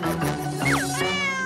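A cat meows twice in quick succession, the second call longer with a rising then falling pitch, close and clear over a steady background hum.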